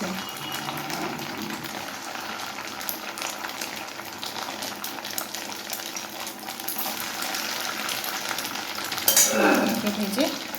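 Balls of chhana kofta frying in hot oil, a steady bubbling sizzle close by with faint stirring, and a brief metallic clink near the end; no one speaks.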